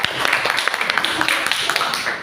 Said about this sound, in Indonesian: Beri tepuk tangan buat Mas